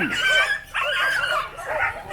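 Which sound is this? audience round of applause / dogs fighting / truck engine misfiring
dogs fighting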